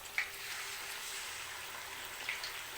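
Fish pieces frying in hot oil, a steady soft sizzle that stays fairly quiet throughout, with a couple of faint pops near the start and end.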